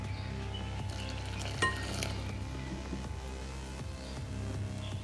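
Rice flour dough for savoury kozhukattai being stirred with boiling water in a pot, a steady low clatter of utensil against vessel with a brief sharper clink, no talking.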